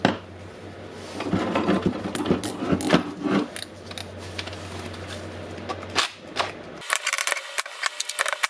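A Makita DDF482 cordless drill, being repaired for a burned armature and a replacement keyless chuck, runs with a steady whirring motor buzz and rattly clicks for about six seconds before stopping, followed by brief handling clatter.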